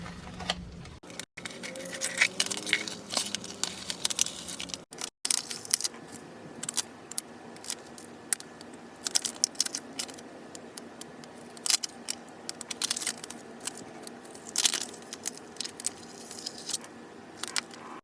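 Glitter iron-on vinyl being peeled and weeded with a weeder tool, heard as irregular close clicks, scratches and soft crackles spread over a quiet background.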